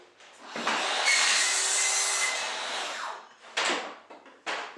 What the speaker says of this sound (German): ich kann die Säge hier einfach in die Hand nehmen, säge mir jetzt wirklich die einzelnen Brettle so runter